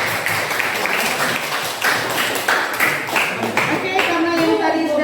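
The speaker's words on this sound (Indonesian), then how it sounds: "beri tepuk tangan untuk kelompok" Classroom applause for a student group as a dense, steady patter of many hands clapping indoors, with voices mixed in underneath.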